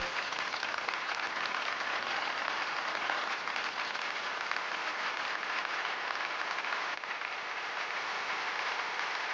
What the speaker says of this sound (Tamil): கைத்தட்டலோட வரவேறுங்க ப்ளீஸ்.